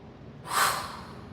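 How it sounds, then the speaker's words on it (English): A single heavy breath, a sharp forceful exhale through the nose or mouth that swells and fades, close and alone in a quiet room at home. "Heavy breathing."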